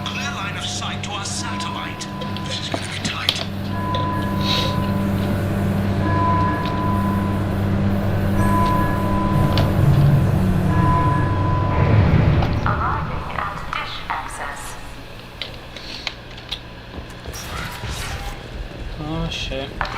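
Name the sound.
tram ride in video game Mass Effect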